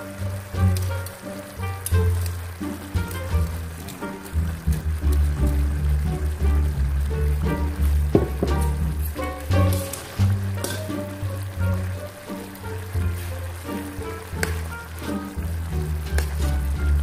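Tilapia fillets frying in oil in a pan give a steady, dense sizzle with continuous crackle and spatter, close and fairly loud, without talk throughout.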